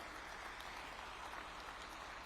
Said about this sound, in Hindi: एक बार बच्चियों के लिए जोर से ताली बजाइए जरा।